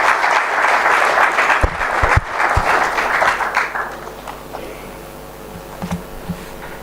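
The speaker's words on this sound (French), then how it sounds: "On acclame, s'il vous plaît." An audience at a religious leaders' gathering claps loudly in sustained applause that gradually thins and fades, with a few scattered claps and low room murmur at the end.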